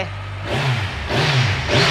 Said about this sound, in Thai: มาฟังเสียงท่อคันนี้กันหน่อย